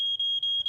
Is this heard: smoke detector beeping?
yes